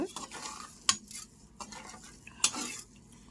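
Spoon scraping and clinking against a pot while salt is stirred into a simmering egg curry, close and quiet, with two sharper metallic knocks among soft stirring sounds.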